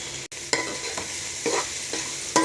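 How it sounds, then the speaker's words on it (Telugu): Chicken frying in a pan with homemade pounded ginger-garlic paste, a loud close steady sizzle punctuated by several brisk scraping stirs. "బాగా ఫ్రై అవ్వాలి."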